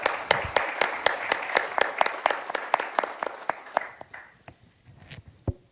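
Audience applause at a summit panel session, a steady rhythm of separate claps that are sharp and close, thinning out and fading toward the end with a final stray clap.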